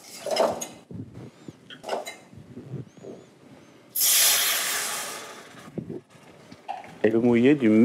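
Chicken stock poured onto hot, fat-coated rice in a pan for the first cooking of a pigeon risotto, giving a loud, broad hiss lasting about two seconds. Talk and kitchen clatter surround it.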